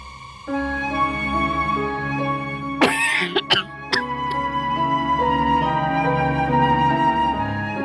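A few sharp coughs and a throat clear burst out over a steady tonal music bed, close and fairly loud, with no talking.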